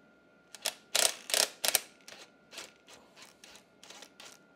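Wrench working stubborn screws on the disc brake of a used Honda CB500 motorcycle, giving a series of sharp mechanical clicks and ratcheting bursts, loudest early on and then lighter and evenly spaced, with no talk.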